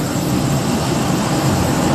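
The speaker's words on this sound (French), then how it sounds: "Et très bientôt l'arrêt complet des réacteurs." A passenger jet's engines wind down on the runway at Yamoussoukro airport after landing, a loud, steady, close-up roar with no voices.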